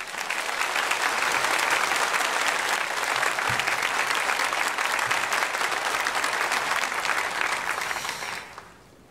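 A church congregation applauds steadily to welcome a preacher at a Sunday worship service, a dense, sustained clapping that fills the hall and fades away at the very end.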